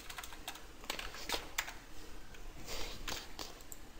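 Someone types in quick irregular bursts on a computer keyboard, the key clicks close and fairly quiet, with short pauses between runs of keystrokes and no speech.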